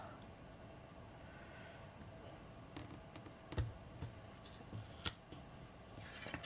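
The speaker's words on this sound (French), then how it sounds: "je disais que je vais mettre mon scotch. Alors, là, je vais le mettre bien bord à bord." Adhesive tape laid edge to edge on a card, quiet crackling and sticky peeling clicks with a few sharper snaps, close and soft against a faint room background.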